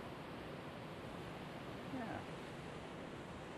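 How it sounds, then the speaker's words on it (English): A waterfall on the Enchanted Walk at Cradle Mountain in Australia, a steady broad hiss of falling water, continuous and fairly faint, with one short spoken word over it. "Here's a waterfall again."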